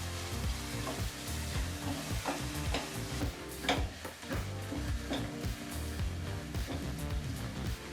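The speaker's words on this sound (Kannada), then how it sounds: "ನಂತರ ಒಂದು 2 ರಿಂದ 3 ನಿಮಿಷಗಳ ಕಾಲ ಮೀಡಿಯಂ ಫ್ಲೇಮಲ್ಲೇ ಈರುಳ್ಳಿನ ಚೆನ್ನಾಗಿ ಫ್ರೈ" Onions fry in a pan over a medium flame with a continuous busy sizzle, while frequent stirring scrapes and clatters keep up a steady rhythm underneath a faint, low hum, no voices present.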